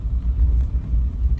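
Mahindra Bolero engine pulling up a steep climb on a mountain road between Manali and Leh, a steady heavy low rumble with no talk over it.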